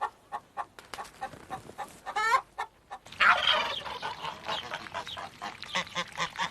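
Hens and a cockerel cluck and squawk in a farmyard run, with short repeated clucks, then a louder burst of excited calls from several birds, close and clear with no talk.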